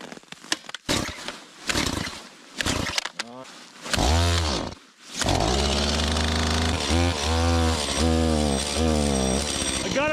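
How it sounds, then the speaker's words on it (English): A chainsaw being pull-started in freezing cold at minus 10 degrees Fahrenheit, several sharp cord pulls and sputters, then the engine catching and running with a loud, steady drone that rises and falls. "I'm curious to see if that chainsaw will start."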